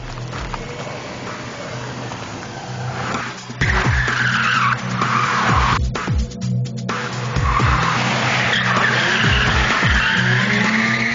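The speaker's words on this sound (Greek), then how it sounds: "Θα σας παρουσιάσουμε τους τρόπους αποσταθεροποίησης ενός πισωκίνητου αυτοκινήτου με σκοπό τα θεαματικά drift." A rear-wheel-drive car drifting, tires skidding and squealing in long bursts over a loud, revving engine, with several sharp screeches in succession.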